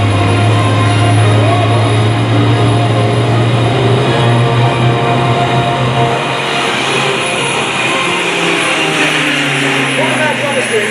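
A Tucano turboprop aircraft flying at the Dover AFB open house airshow gives a loud, sustained engine drone whose pitch sinks toward the end as it passes, over a wash of crowd noise.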